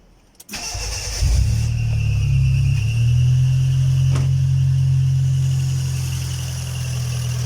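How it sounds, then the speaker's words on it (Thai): A car engine cranks and catches at about half a second, then settles into a steady, close idle that holds to the end, during a home coolant flush of the radiator. "ก่อนสตาร์ทรถแนะนำให้ไฟเช็คอินจินหายทุกครั้งนะครับ แล้วค่อย สตาร์ท"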